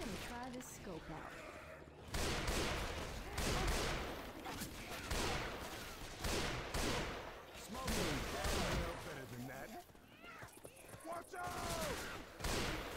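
Scoped rifle shots and bursts of gunfire ring out in Left 4 Dead 2, with repeated sharp blasts across most of the stretch, loud and close, while players talk over the shooting.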